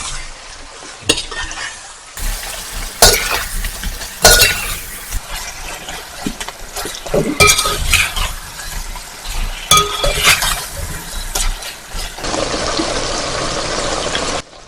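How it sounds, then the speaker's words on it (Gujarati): Boneless beef cooks on full flame with red chilli and salt while a spoon stirs it in a pot, producing repeated scraping clinks and bursts of sizzling in an uneven rhythm, close and fairly loud. "બધાને સરસ રીતે ફેરવી દઈએ।"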